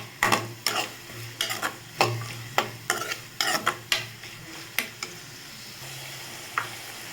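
Onions sautéing in a pan for veg keema curry kulambu, a quiet sizzle punctuated by a dozen sharp, irregular clinks and scrapes of the stirring spoon, near and with no voices.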